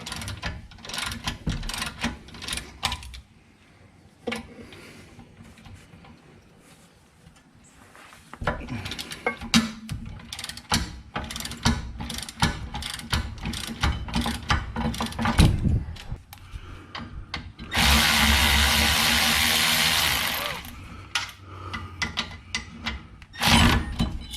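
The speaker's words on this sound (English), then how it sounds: "Now I'm ready to remove the caliper bracket. This is also a 14 millimeter." Ratchet loosening the 14 mm rear caliper bracket bolts on a 2009 Scion xB, giving quick clicking bursts and metallic handling noises nearby, with a longer steady grinding stretch partway through.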